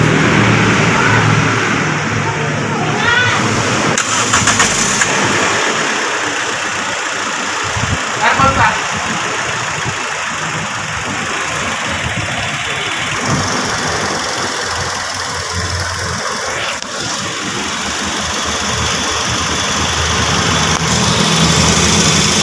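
A Toyota Vios engine idles steadily with the air-conditioning compressor engaged, a continuous close hum with faint ticking and a few brief clicks, while someone talks over it.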